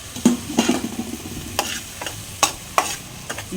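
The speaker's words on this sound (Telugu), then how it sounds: "ఈ మొక్కలు పుట్టగొడుగు మొక్కలు వేస్తే" Mushroom pieces fry in oil with a constant close sizzle, broken by several sharp stirring knocks against the pan.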